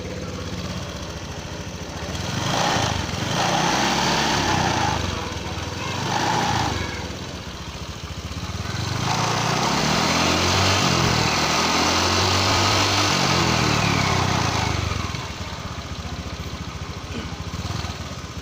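A Honda Vario 150 scooter engine, just repaired after a thin-smoke problem, starts and idles, then is revved up and down in several rising and falling surges, loud and close.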